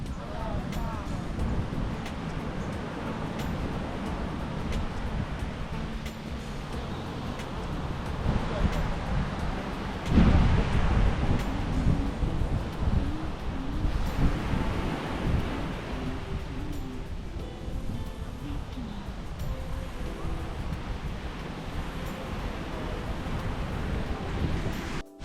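Strong wind blows across a Bahamas beach at the Baha Mar resort, buffeting the microphone in a constant rough rumble with surf washing underneath, gusting harder around the middle.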